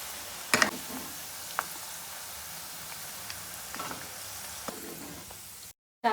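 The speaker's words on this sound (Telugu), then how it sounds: "చూడు, ఆఫ్టర్ 2-3 మినిట్స్ మంచిగా ఇలా ఫ్రై చేసుకోవాలి." Cauliflower pieces fry in hot oil for gobi fried rice, a faint even sizzle with a few sharp clicks and knocks from a utensil, cutting out briefly near the end.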